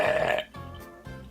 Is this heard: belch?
yes